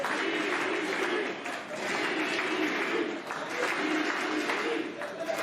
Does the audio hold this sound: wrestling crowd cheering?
yes